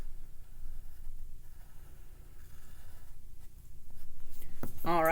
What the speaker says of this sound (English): Like I'm gonna erase just a little bit